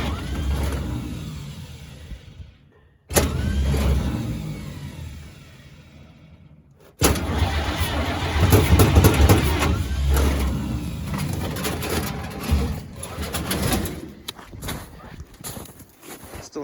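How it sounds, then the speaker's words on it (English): The starter of a WWII-era vehicle cranks in loud rough bursts, pauses, then cranks again until the old engine catches and runs with an uneven, lumpy chugging close by. "now the starter is going to be temperamental."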